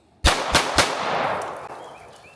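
Three quick, loud Sig P365 X Macro pistol shots fired at a shooting range, sharp cracks about a quarter second apart followed by a lingering outdoor echo.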